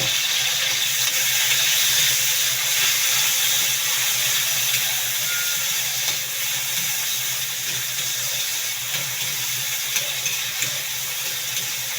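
Tomatoes with onion and garlic sauté in a pan for pork adobo, giving a loud, steady hiss and sizzle that runs unbroken with small crackles.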